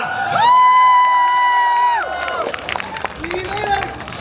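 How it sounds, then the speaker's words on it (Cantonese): A crowd at a live stage show in Hong Kong cheers and whoops, with one long sustained shout followed by a scattered, noisy burst of clapping and hollering. "俾掌聲啦！"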